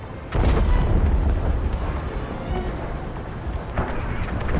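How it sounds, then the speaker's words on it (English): A frigate blows up in the Star Wars Squadrons space combat game: a sudden loud, deep boom starts the clip, then a sustained rumbling roar with wind-like rush fills the remaining seconds, with no talk. "The frigate is about to explode."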